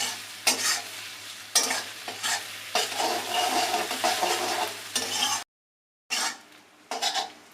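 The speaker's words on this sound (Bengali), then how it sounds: "পেঁয়াজটা ভাজা হয়ে গেছে" Salted onions frying over high heat as a spatula stirs and scrapes the pan, a loud continuous sizzle with repeated clattering strokes and a brief silent gap near the end.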